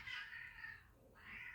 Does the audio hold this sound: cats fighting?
yes